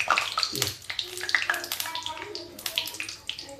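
Hot oil is poured over peanuts and almonds for a village-style Diwali dalmoth, making a crackling, bubbling sizzle in short bursts with a voice speaking over it.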